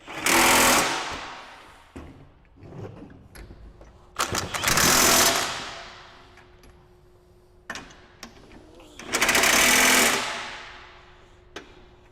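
A power tool drives a 24 mm bolt while a belt squat machine is assembled, firing in three loud, harsh bursts of about a second each. Quieter clicks and handling noise fall in the gaps between them.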